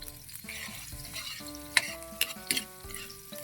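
Chopped garlic, onion, ginger and green chili sizzle and fry in a pan for Filipino adobong tuyo, with steady stirring and a few sharp utensil scrapes and clinks against the pan.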